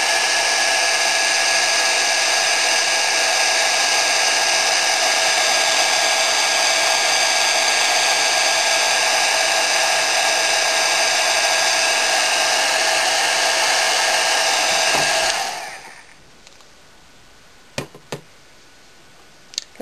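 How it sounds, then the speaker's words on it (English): An embossing heat gun blows hot air to melt embossing powder, a loud steady whirring hiss running alone for about fifteen seconds before cutting off, followed by a few faint clicks and taps. "She didn't like me getting that embossing gun out."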